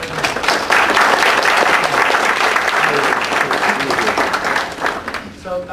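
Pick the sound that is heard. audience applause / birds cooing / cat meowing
audience applause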